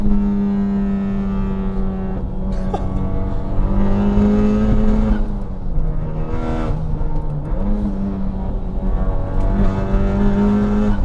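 A Honda Civic Type-R is driven hard through corners, its engine droning loudly and continuously with the pitch dipping and climbing as it lifts off and reaccelerates, with no speech.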